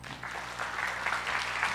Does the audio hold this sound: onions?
no